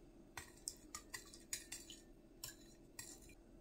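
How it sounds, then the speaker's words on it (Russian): A utensil repeatedly clinks against the side of a bowl while stirring water with a tablespoon of baking soda, a steady rhythm of light metallic taps over a low background hum. "Тщательно перемешиваю."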